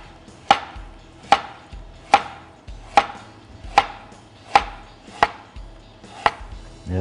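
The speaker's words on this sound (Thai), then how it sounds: "ผมซอยบางๆนะครับ" A knife slices thinly and evenly through prawn dish ingredients on a cutting board, about eight crisp, steady chops, close and alone with no talk.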